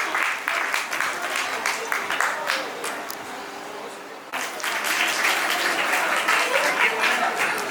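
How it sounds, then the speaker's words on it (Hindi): Applause at a Jain temple Kshamavani festival gathering, a crowd clapping steadily for a couple, with a brief dip midway before the clapping resumes at full strength. "तालियां ऐसे दंपति के लिए"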